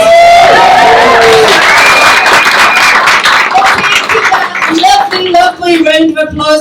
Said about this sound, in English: Lovely round of applause going